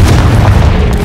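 A Confringo spell explosion during a duel in Hogwarts Legacy: one very loud, dense boom filling the whole moment, close and sustained without a clear gap, with no talking.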